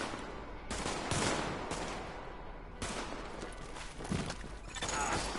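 Gunfire crackles in the shooter game The Division, dense bursts of automatic fire in several waves with brief lulls between, loud and close throughout.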